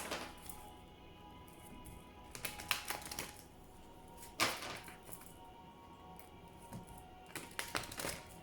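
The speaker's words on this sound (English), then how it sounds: "Please think of your question as I shuffle the cards." Oracle cards being shuffled by hand, giving a series of soft papery taps and flicks in irregular bursts, quiet and close, with no talking.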